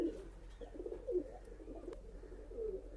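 Pakistani tournament pigeon, a Teddy Kamagar Dabwal, cooing softly in a few low, throaty bursts over a steady low hum, fairly close and quiet.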